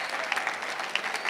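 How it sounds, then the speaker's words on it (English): A crowd at a startup pitch competition semifinal claps for the presenters, a continuous, even roar of applause with a few sharper individual claps standing out. "let's give one much louder round of applause to all of our presenters today"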